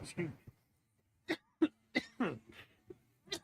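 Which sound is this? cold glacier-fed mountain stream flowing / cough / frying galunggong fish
cough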